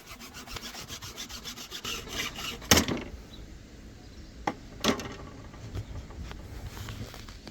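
A metal-blade hacksaw cuts through a wooden dowel rod outdoors, giving rapid rasping back-and-forth strokes that slow and stop, followed by a few sharp knocks of wood, close and moderately loud with no talk.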